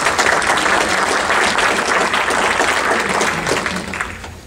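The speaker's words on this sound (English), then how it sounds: "That's scary when you get applause before you start." Loud, dense audience applause greeting the keynote on soil health at the Farming for the Future 2013 conference, a continuous wash of clapping that holds steady and then begins to taper at the end.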